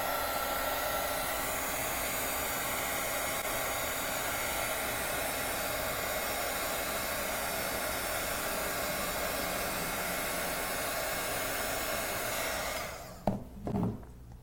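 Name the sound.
hair dryer drying stamped Easter egg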